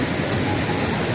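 The upper portion of Ghagra waterfall at Belpahari, Jhargram, gives a constant close rush of flowing water, loud and even throughout the brief moment.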